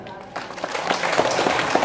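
An audience claps for a Hadroh group at a religious gathering's anniversary celebration, scattered hand claps building into applause that grows louder over two seconds.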